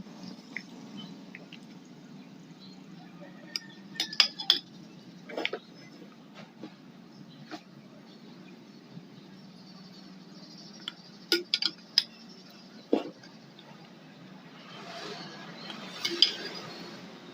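Sweetened jackfruit is spooned into glass bottles, giving scattered clinks and taps of a spoon against glass, sparse and close, over a quiet background.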